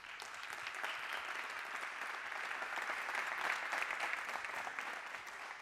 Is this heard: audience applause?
yes